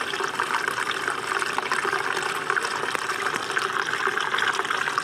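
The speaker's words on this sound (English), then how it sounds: "look at that water flowing" Rainwater rushes and gushes steadily and continuously from a curb into a small Pelton turbine setup, a dense, even flow with no pauses.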